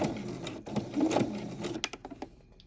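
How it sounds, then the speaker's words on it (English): A sewing machine runs a few stitches backward then forward to lock the thread while piecing a quilt, a close, steady mechanical whirring that breaks into short separate clicks near the end. "you need to backstitch 3 or 4 stitches to lock the thread to prevent it from pulling out later"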